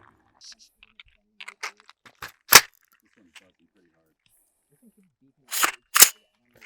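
DTT flagship rifle firing, a few sharp, loud cracks spread out with quieter clicks and small handling noises in between.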